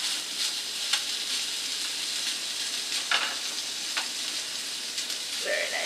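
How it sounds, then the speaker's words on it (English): Food browning lightly in a hot pan gives a steady, close sizzle that runs throughout, with a few sharp pops and crackles rising above the continuous hiss. "You can hear it sizzling"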